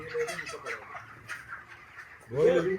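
Chickens cluck and chatter softly in a close group at a palm products festival, with a louder burst of fowl calls near the end.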